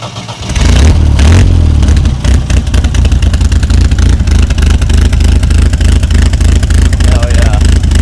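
An old vehicle with a small baffle and no real muffler fires up and revs loudly and close, a choppy, lumpy idle running steadily throughout with voices talking over it.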